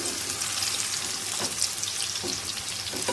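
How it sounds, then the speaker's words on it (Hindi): Minced meat for a tempering sizzles in hot oil with a dense, continuous crackle, and a few stronger pops rise through it over a few seconds. "कीमे का तड़का लगाया है"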